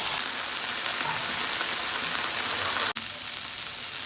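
Meat fries in a pan with sofrito of softened onions, a steady, close hissing sizzle like light rain, with one brief cut near the end and no voices.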